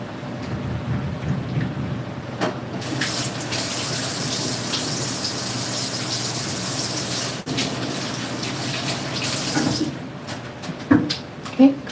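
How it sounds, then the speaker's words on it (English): Water from a running tap splashing while hands are washed in a home sink, a steady broadband rush lasting several seconds, starting and stopping abruptly, with soft handling noises and a few clunks afterward. "So I'm gonna go wash my hands real quick."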